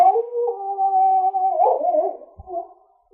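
A dog howls at the moon in a radio drama set in the Yukon, with one long steady near howl that wavers and fades near the end.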